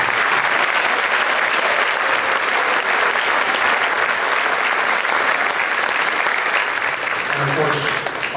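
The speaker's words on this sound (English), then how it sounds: "if we can have a round of applause for all of them" Sustained, loud applause from a concert audience at a Lumberton high school band's spring concert, a dense continuous wash of clapping that tapers slightly near the end.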